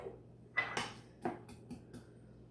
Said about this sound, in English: I'm going to drop in some hamburger meat